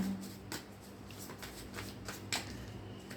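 Tarot cards are shuffled close by during a love reading, a run of quick papery riffles and flicks with a sharper snap near the end, heard alone.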